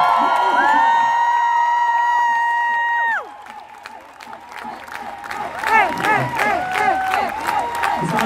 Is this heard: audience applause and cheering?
yes